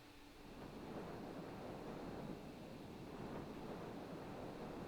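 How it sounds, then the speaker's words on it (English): Wind and ocean waves at the harbor town of Rogueport in the video game Paper Mario: The Thousand-Year Door form a steady, faint, rushing wash of noise that continues without a break. "Ah, this is wind and waves of Rogueport."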